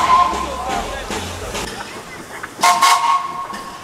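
A narrow-gauge train on the Gulbene–Aluksne railway pulling away from a station, with a whistle or horn toot and a rumbling engine and rail noise nearby, mixed with a voice talking.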